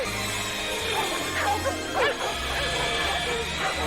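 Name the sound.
dogs barking wildly in the movie Mac and Me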